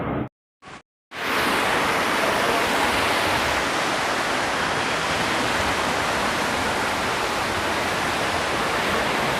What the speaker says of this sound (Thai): เป็นน้ำตกนะครับ